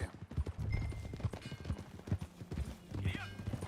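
Hooves clip-clop in a fast, steady galloping rhythm as a horse is ridden in Red Dead Redemption 2, close and continuous, with a brief whinny near the end.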